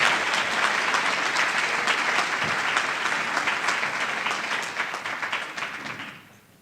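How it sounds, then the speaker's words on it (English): Audience applause fills an awards ceremony hall, loud and steady with dense clapping that carries on for several seconds before thinning out and fading at the end. "You can clap again."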